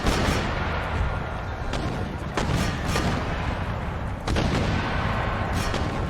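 Mortar artillery thuds and booms in an Empire Total War battle, with repeated sharp blasts over a constant rumbling background of distant gunfire, loud and continuous.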